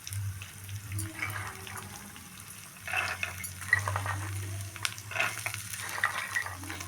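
Field beans (avarekalu) tipped into browned onions frying in a clay pot, with a soft watery sizzle and stirring scrapes over a steady low hum, no one speaking.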